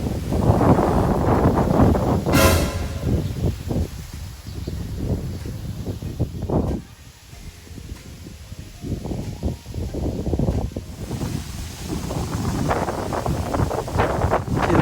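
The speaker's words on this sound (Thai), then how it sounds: "เป็นเรื่องปกติธรรมดาของฤดูหนาวที่นี่นะครับจะมีลม ที่พัดผ่านมาจากแม่น้ำโขง" Strong winter wind sweeps in off the Mekong River in Isan, northeastern Thailand, buffeting the microphone with continuous, loud, rough gusts and a faint rustle throughout, with no voices.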